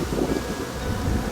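Strong gusty wind on a blustery day at a beehive site, buffeting the microphone with a dense low rumble and rustle that stays loud throughout.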